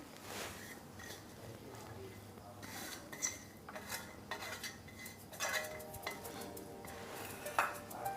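Wheat flour mathri dough with fenugreek is mixed by hand in a bowl, giving soft scraping and stirring with scattered clinks and knocks against the bowl, quiet and close, with no talking.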